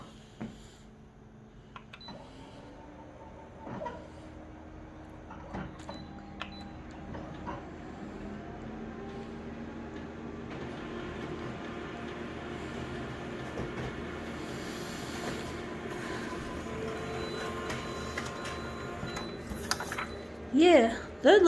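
A printer or copier runs steadily after its document feeder lid is closed, a continuous mechanical hum with clicks and whirs throughout, rising near the end with a few louder clunks.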